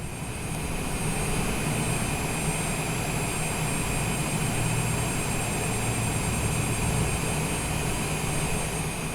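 Cessna Citation business jet engine in Microsoft Flight Simulator, a steady, loud turbine whine and roar holding evenly throughout with no talk.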